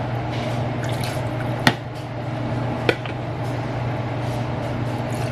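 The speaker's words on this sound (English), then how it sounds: "Let me add just a little bit more water." Water is poured into a cooking pot on a kitchen stove as a steady, soft trickling wash, broken by two sharp clicks against the pot, over a constant low hum.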